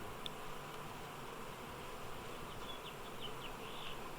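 Honey bee swarm being installed into a beehive with frames, producing a faint, steady drone of many buzzing bees, with a few individual bees whining past close by.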